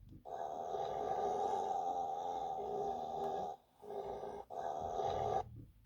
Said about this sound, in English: And then there is a growl.